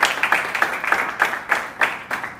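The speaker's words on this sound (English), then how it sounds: "So we'll start off with giving them a round of applause" An audience at a panel event on life after school for Black male professionals claps in a quick, fairly regular rhythm, a modest crowd of hands close by, steady for the whole moment.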